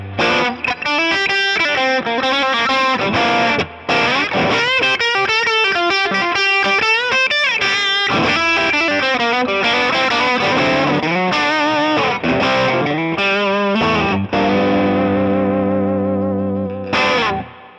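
PRS Private Stock Paul's 85 electric guitar on its bridge humbucker with gain, loud driven riffs and sustained distorted chords with fast lead runs, played alone and close.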